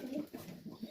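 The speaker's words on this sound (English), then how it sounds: "Birds" Tippler pigeons cooing in a backyard loft, soft low throaty coos repeating in quick succession, close and fairly quiet.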